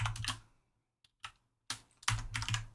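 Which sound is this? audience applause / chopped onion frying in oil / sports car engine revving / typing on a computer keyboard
typing on a computer keyboard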